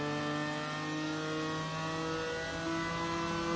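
A race car engine in the GT Sport video game, holding a steady, loud, high-pitched drone at full throttle for the whole stretch, with no voices.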